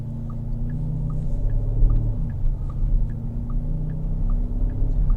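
A 2024 Porsche Cayenne S with a 4-litre twin-turbo V8 and eight-speed automatic idles, a deep, steady low rumble with slight pulsing, heard close and alone.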